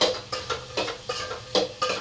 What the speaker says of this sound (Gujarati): હવે આપણે શાક મિક્સ કરી લેવાનું છે